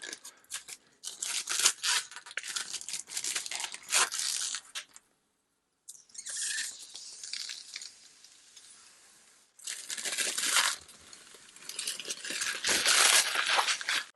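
Protective film being peeled off a 445x445mm Byroras laser engraver honeycomb bed, a close, crackling rip in several long bursts separated by short pauses.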